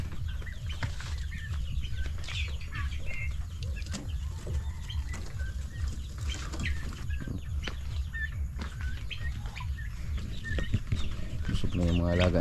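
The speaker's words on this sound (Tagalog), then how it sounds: "Busog na yung mga alaga nating manok." Chickens clucking and calling close by over a low steady hum, with a person talking in Filipino at times.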